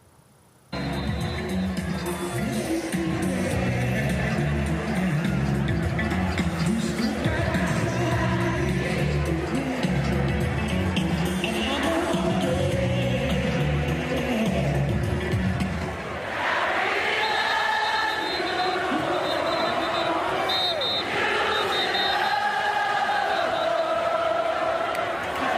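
A roaring crowd of about 30,000 at a Jackson State football game, loud and continuous, with tonal musical layers running through the first half before the mass of voices and cheers takes over.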